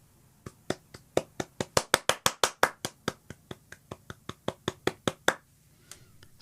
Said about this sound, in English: Let's try clapping.